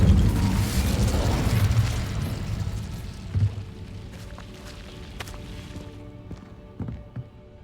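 An Incendio fire spell cast in a wizarding video game: a loud, broad whooshing burst that swells and slowly fades, followed by a few softer thuds and pops.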